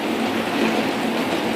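Steady rain falling outside a home kitchen during Padang-style cooking, a dense even hiss that stays loud and unbroken throughout, with no talking.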